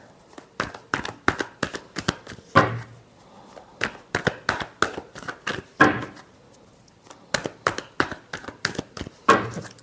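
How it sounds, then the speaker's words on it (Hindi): Tarot cards are shuffled by hand in quick rhythmic flurries of crisp flicking and slapping, close and clear, repeating in several bursts with brief gaps and no talking. "Last shuffle."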